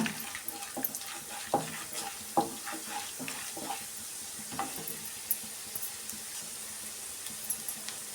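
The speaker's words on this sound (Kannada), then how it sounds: "ಈಗ ಕಡಲೆಬೇಳೆ ಉದ್ದಿನಬೇಳೆನ ಬೇಳೆನ ಸೇರಿಸ್ಕೊತಾ ಇದ್ದೀನಿ ಸ್ವಲ್ಪ ಈ ಥರ ಫ್ರೈ ಮಾಡ್ಕೊಳ್ಳೋಣ" Chana dal and urad dal fry in oil for tomato gojju, giving a steady sizzle broken by sharp stirring scrapes and clinks that repeat every second or so, close and fairly quiet, with no voices.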